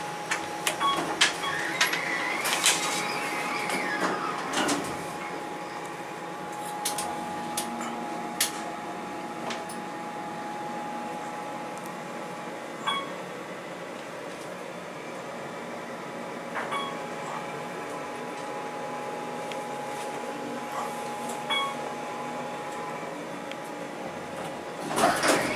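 An Otis Series 1 hydraulic elevator at a Hampton Inn & Suites in Kokomo, Indiana, hums steadily as the car rises, with a continuous mechanical drone, faint clicks and brief thumps throughout.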